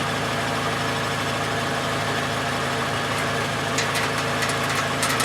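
A 2012 Toyota Camry engine idles steadily during a transmission flush, its transmission at about 150,000 miles, with a constant low mechanical hum and a few light ticking sounds near the end, no voices.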